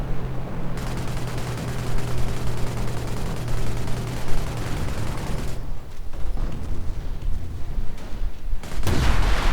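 Heavy explosive impacts and rumbling blasts from a V1 rocket strike in a WWII strategy video game, loud and sustained for several seconds, then a pause and a final boom at the end.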